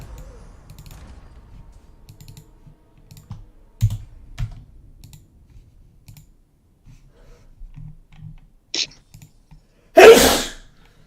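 A single loud sneeze bursts out near the end, preceded by scattered soft keyboard clicks and faint mumbling in a quiet room.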